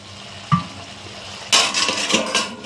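Rohu fish kadai paturi stirred in a pan: a lone metal clink, then a second later steady close sizzling with scraping stirring strokes, no voices.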